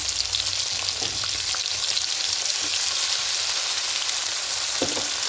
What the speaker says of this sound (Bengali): ভাজা ভাজা হয়ে এসছে ঠিক এরকম করে একটু ভেজে দিতে হবে